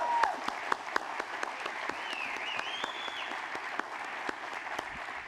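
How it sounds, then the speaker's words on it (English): Audience applause at a city State of the City address, a steady dense clapping that fills the whole stretch at moderate level, with a few sharper individual claps standing out. "Let's give them a big round of applause."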